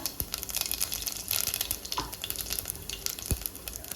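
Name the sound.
ajwain and cumin seeds sizzling in hot oil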